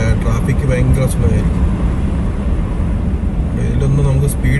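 Slow-moving highway traffic rolls along a snow-covered road in Canada, a steady close rumble of engines and tyres with a person talking over it.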